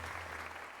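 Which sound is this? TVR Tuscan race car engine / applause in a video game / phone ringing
applause in a video game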